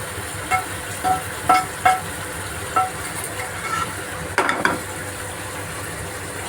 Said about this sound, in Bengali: চিংড়িগুলো দিয়ে দিলাম রোল ফুটে উঠেছে